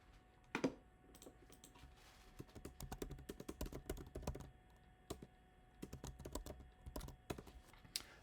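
Close-up typing on a keyboard, with quick irregular key clicks in bursts and brief pauses between runs.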